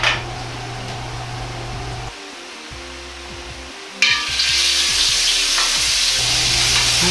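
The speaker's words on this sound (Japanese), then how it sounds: "豆板醤を油で溶くようにして炒めたら卵を流し込み ます。" Doubanjiang chili bean paste frying in hot oil gives a steady, close sizzle with stirring scrapes; it dips quieter for a couple of seconds midway, then returns louder, over a faint hum of a kitchen fan.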